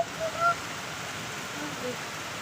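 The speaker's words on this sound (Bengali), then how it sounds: "প্রচণ্ড ভারী বৃষ্টি হচ্ছে এখানে" Heavy rain falls in a steady, dense hiss that fills the whole scene, with a few faint vocal-like sounds briefly rising above it.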